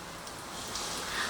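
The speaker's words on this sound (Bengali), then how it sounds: "আমি প্রথমেই এর মধ্যে দিচ্ছি গোটা জিরা ফোড়নে" Whole cumin seeds sizzle in hot white oil, a steady, close, hissing crackle like light rain that swells slightly over a brief moment.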